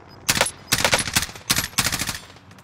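Automatic gunfire from a teammate in Call of Duty Warzone, four loud close bursts of rapid rattling shots separated by short gaps.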